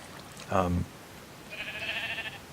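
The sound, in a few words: sheep bleating in a video game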